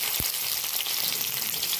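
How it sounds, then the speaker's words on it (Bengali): Capsicum fries on a low flame in a pan, a soft, even sizzle heard close by and alone for a brief moment. "এরপরে ভাজবো ক্যাপসিকাম আর বিনস"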